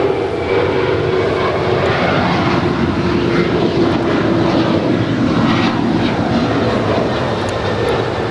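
A United Boeing 737-900ER departs LAX bound for Chicago, its engines a loud, steady roar that holds without a break for the full stretch, with no voices over it.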